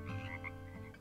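A small frog croaks in a low, continuous rasping drone, steady and fairly close, with no voices.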